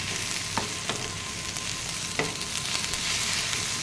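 Okra sautés in a pan for a stew, sizzling steadily and close by, with a few sharp clicks of a spoon stirring it.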